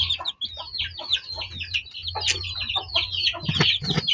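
A flock of chicks peeps busily in high, rapid chirps while hens cluck lower underneath, close and continuous.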